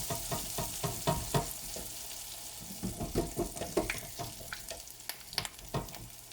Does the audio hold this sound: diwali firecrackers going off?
no